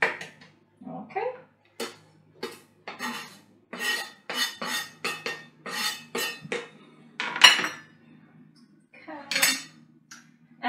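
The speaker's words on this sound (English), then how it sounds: "now I will use my other knife and I will just chop it better" Knife chopping salad vegetables for Polish sałatka warzywna, a series of close, uneven sharp chops and scrapes on a board with short pauses between bursts.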